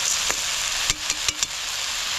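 Wild-caught snails and prawns fry in a pan outdoors, giving a steady bright sizzle with a few sharp clicks and pops scattered through it.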